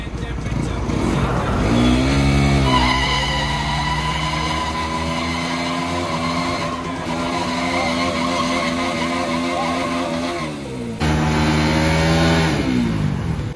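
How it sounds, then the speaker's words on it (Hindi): A Bajaj Pulsar RS200 motorcycle fitted with a 180mm rear tyre does a burnout: a loud, close engine holds high revs while the rear tyre screeches and skids continuously, and the pitch shifts as the throttle changes near the end. "अबे चल रहे हैं बर्नआउट की तैयारी, धुआ ही धुआ कर दिया"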